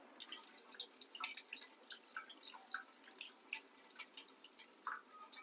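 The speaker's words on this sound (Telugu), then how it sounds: "డ్రాప్ సౌండ్ కూడా బాగా క్లారిటీగా వినిపిస్తుంది" Water drops dripping in a kitchen, a faint, rapid patter of small drips falling close by, with a soft room hiss underneath.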